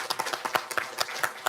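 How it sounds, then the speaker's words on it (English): An audience at an international symposium on labour statistics gives the speakers a round of applause, a fairly quiet patter of separate claps with brief sharp peaks. "Let's give them a big round of applause."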